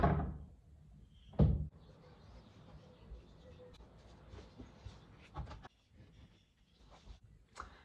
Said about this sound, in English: when it's super windy outside and the door just closed